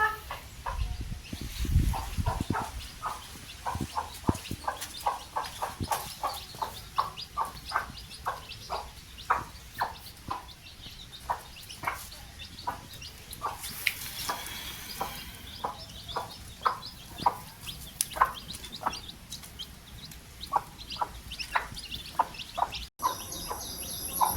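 Broody hen with her ten newly hatched chicks, a steady stream of soft, high peeping from the chicks with occasional low clucks from the hen, moderately near and continuing throughout.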